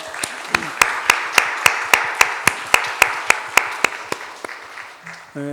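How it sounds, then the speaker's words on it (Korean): A church congregation claps together for its male members in a steady, evenly timed rhythm of about fifteen sharp claps that slows and fades near the end, with brief speech at the very end. "이분들을 위해서 한번 박수를 하겠습니다"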